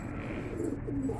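Soft pigeon coos, a couple of low murmuring calls, heard close by over a steady background hum.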